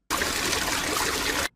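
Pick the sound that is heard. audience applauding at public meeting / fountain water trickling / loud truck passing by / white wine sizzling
fountain water trickling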